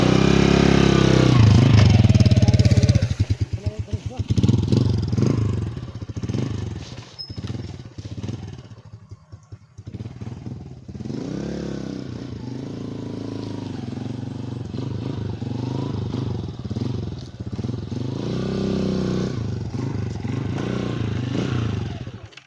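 A motorcycle engine runs loud and rough at first, then settles into an uneven idling putter with clattery pulses and dips, continuing steadily to the end with faint talk in the background.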